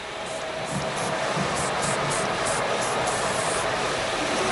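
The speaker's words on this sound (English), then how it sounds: "I'm doing it very soft, very subtle, a little bit of spray." A steady, close hiss of hairspray from an aerosol can, sustained for several seconds with a slight pulsing texture.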